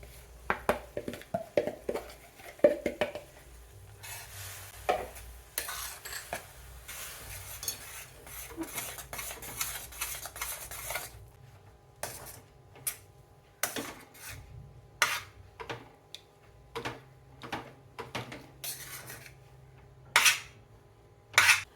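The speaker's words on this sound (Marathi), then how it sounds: "आपण जे तांदळाचं पीठ आणि मैदा चाळून घेतलेला आहे ते यामध्ये मिक्स करून घेऊया" Rice flour and maida being stirred into hot water in a pot with the gas off, for paan-flavored ukadiche modak; repeated sharp utensil clacks and scraping strokes at a steady rhythm, close and fairly loud, with no talk.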